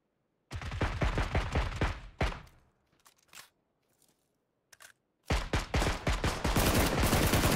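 PUBG gunfire on Xbox aimed around a tree in a squads match: a loud, rapid automatic burst, then a few scattered single shots with near silence between, then another sustained stretch of heavy fire.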